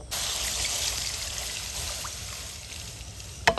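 Cow's milk pours steadily into a pan while semolina gulab jamun is being made, a continuous close trickling stream lasting throughout, with a brief clatter at the end.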